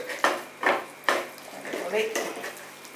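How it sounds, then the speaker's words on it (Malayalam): Egg bhurji is stirred in a pan, a spoon knocking and scraping against the metal in several distinct strokes over a faint sizzle, with a voice speaking briefly. "വീണ്ടും നമുക്ക് നന്നായിട്ട് ഇളക്കി കൊടുക്കാം."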